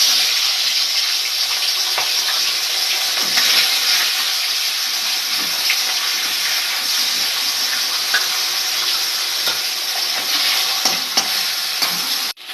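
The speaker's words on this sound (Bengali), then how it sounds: "এবার মাছগুলোকে ভেজে নেব।" Fish frying in hot oil: a loud, steady, close sizzle with crackling spits runs unbroken for the whole stretch, with no talking.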